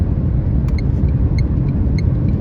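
Car engine turning at about 2000 rpm while cruising around 80–83 km/h in fifth or sixth gear, a steady low rumble with road noise throughout and faint high tonal whines, no talking.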